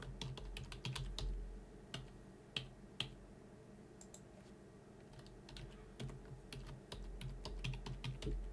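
Quiet keyboard typing: irregular bursts of crisp key clicks, some spaced, some in quick clusters, close by with no talking.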